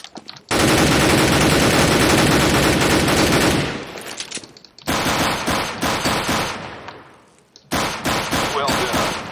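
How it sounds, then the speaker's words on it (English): In the CS:GO video game, a machine gun fires at targets in long loud sustained bursts. Each burst cuts off, then resumes as another rapid volley of close, heavy gunfire. "Take out these two targets and we'll begin the test. Don't forget, shoot in short bursts."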